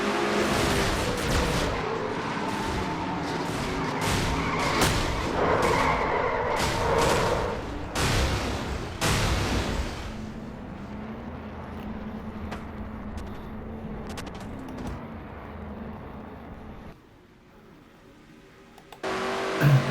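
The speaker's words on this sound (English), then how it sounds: "you heard Levi trying to get his car to start back up, and it doesn't" Loud race car engine noise and revving fill the first half, then a lower, rougher idle and sputtering as the engine fails to catch, ending abruptly.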